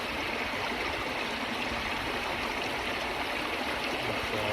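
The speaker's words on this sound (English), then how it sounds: "I'm down here on this pretty little creek" A small creek flows steadily nearby, giving a constant soft rushing and gurgling wash of water with no break and no voices.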